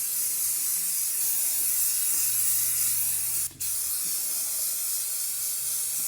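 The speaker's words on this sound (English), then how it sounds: "Get your cleaner. This is a brake and clutch cleaner." Aerosol brake and clutch cleaner sprayed onto the brakes of a Vauxhall Meriva A: a loud, steady close-up hiss that runs continuously for several seconds with one brief break partway through.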